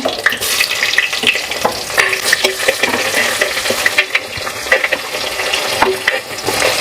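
Fennel, cloves, cinnamon and stone flower temper in hot oil in a pan for goat head curry. There is a continuous, close sizzle and crackle, with frequent scraping and stirring strokes throughout.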